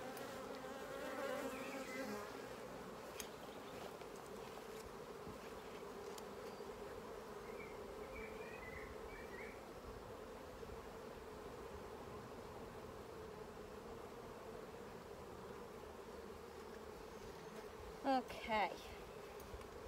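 Honeybees buzz around honeycombs during a hive inspection, a faint, steady drone that fills the whole stretch. A person says a single word, and a couple of brief clicks land near the end.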